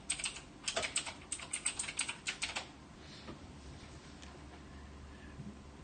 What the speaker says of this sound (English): I'm going to start typing out the message to close it up.